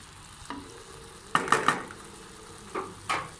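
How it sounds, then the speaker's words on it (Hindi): Ginger-garlic paste being stirred into okra in a pan: a few sharp spoon scrapes clustered near the middle and end over a low, faint sizzle, close by. "हमने अदरक लहसुन का पेस्ट भी इसमें ऐड करना था, वो भी हमने शामिल कर दिया है और इसको अच्छे से मिक्स कर लेना है"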